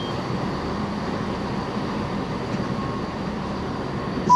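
A ScotRail passenger train to Glenrothes with Thornton rolls along from Edinburgh, giving a steady, close rumble of wheels on track with a faint tonal whine, unbroken for the whole stretch and with no voices.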